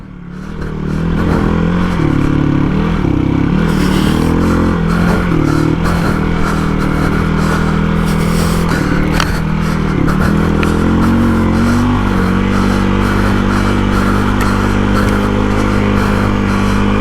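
A Hero XPulse 230 motorcycle, big-bore build, is ridden through sand, its engine held loud and close on the throttle with rising and falling revs and clattering over a continuous drone.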